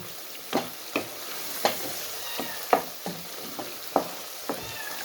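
Chicken liver cooked with yogurt frying in a pan, steady sizzle under a regular series of spoon strokes and scrapes about every half second, close and alone.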